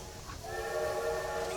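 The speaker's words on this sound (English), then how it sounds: "honk this horn, or toot the horn 3 times" A train horn sounds in the video game Poppy Playtime: a fairly faint, drawn-out whistle-like tone rising over a low rumble. It is heard alone, without speech.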